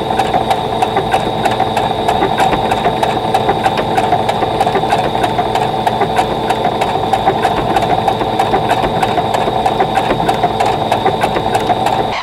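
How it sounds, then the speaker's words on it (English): A sewing machine stitching a Dresden Plate quilt block runs steadily for over ten seconds, with a fast, even needle rhythm over a mechanical hum. It is loud and close, with no talk. "And just turn it as I'm stitching."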